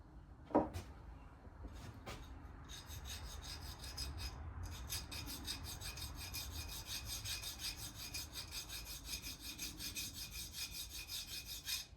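A Volkswagen air compressor piston is shaved down by hand with repeated rasping, filing strokes, close and fairly quiet, rubbing steadily after an initial knock.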